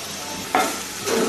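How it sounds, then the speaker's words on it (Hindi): Cumin seeds hit hot oil in a home kitchen while a Punjabi lunch is cooked, giving two short bursts of close sizzling hiss over a quiet background. "मैं फिर से डालती हूँ थोड़ा सा ऑयल, और ऑयल डालने के बाद मैं इसमें डालूंगी थोड़ा सा जीरा"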